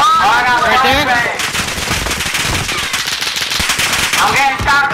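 Rapid machine-gun bursts and gunshots crackle loudly in a Call of Duty: Modern Warfare Resurgence match, with a player's voice talking over much of the firing.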